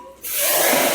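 Tadka of hot oil poured into dal: a sudden loud sizzle bursts in and keeps hissing steadily, hot oil crackling close up after a brief quiet moment.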